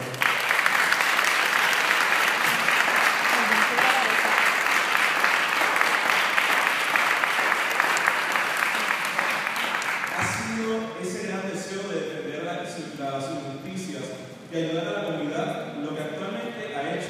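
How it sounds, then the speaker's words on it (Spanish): Strong audience applause for an honoree at a university media event fills most of the stretch, dense and sustained, then thins to scattered claps with a voice over it after the midpoint. "Para Julio, pido un fuerte, muy fuerte y exclusivo aplauso."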